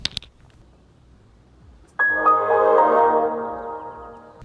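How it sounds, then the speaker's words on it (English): A Windows XP shutdown chime played as a custom lock sound from a Cybertruck, a short descending melodic tone that swells in clearly and rings on, preceded by faint clicks. "The Windows XP shutdown sound."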